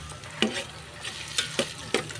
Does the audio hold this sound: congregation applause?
no